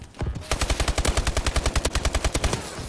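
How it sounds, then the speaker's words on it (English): Rapid automatic gunfire in a first-person shooter multiplayer match: one sustained burst of evenly spaced, punchy shots lasting about two and a half seconds, loud and close, with no talking. "You shot me through the corner!"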